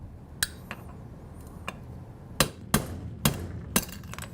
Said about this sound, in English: You're going to do that by using a 1/4 inch punch and a hammer